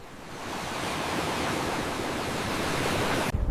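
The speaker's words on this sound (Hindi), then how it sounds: "अगली सुबह समंदर से जोर की लहर सुनाई दी।" Loud ocean waves roll in from the sea in a continuous, close, rushing roar that holds steady for a few seconds before cutting off abruptly.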